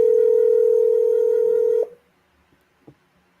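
A steady telephone dial tone sounds loud and close for just under two seconds while a call is being placed, then cuts off abruptly into near silence with a faint click.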